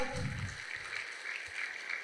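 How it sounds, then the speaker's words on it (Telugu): Applause from a crowd at a large vegetarian rally, a steady wash of many hands clapping together that holds for the full two seconds, with some voices faintly underneath. "ఒకసారి గట్టిగా చప్పట్లు కొడదాం"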